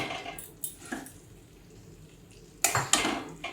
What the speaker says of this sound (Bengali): এবার সব কিছু আমি মশলার সাথে আলু পটলগুলো কষিয়ে নিচ্ছি